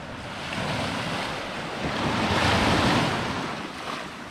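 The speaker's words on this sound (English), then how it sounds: "I wouldn't mind having that sound at night, but I could hear the waves a little bit" Waves wash onto a Lake Superior beach at Little Sand Bay, Bayfield, Wisconsin, with steady wind buffeting the microphone; a continuous broad surf roar swells and builds toward the middle, no voices.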